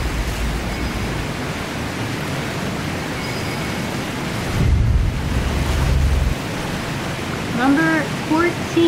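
Steady rushing waterfall ambience from the video game Dragon Age: Inquisition, a broad constant roar that fills the clip, briefly swelling in the middle, with faint tonal game sounds near the end.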